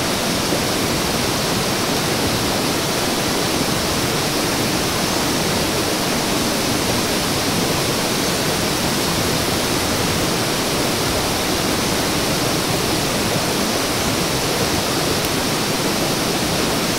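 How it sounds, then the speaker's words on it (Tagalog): A stream in a hillside field rushes steadily, a dense broadband wash of flowing water close by, constant and unbroken with no voices. "So ayan sapa."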